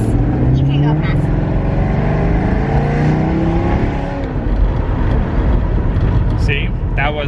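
A Maserati GranTurismo S with its exhaust valves closed revs up close, a deep throaty engine note that swells and falls, with voices talking briefly over the end.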